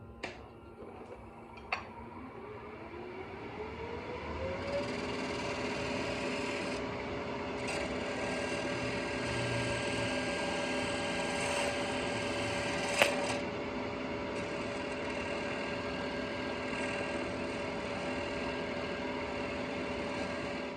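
A continuous scraping, rasping cut of a turning tool against a spinning Chinese elm bowl on a lathe, with a steady machine hum underneath, close up and unbroken for the whole stretch.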